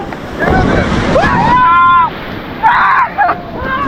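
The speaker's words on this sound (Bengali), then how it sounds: "একটা করে ঢেউ আইতেছে" Sea surf rolls in at Cox's Bazar beach as a loud, windy wash of breaking waves, with voices calling out and talking over the roar.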